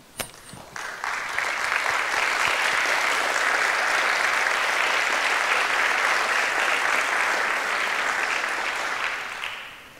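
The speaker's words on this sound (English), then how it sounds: "please stand so we can give you an applause" An audience at a Wingate University stage event bursts into loud, sustained applause that swells quickly, holds steady for about eight seconds of dense clapping, then tapers off.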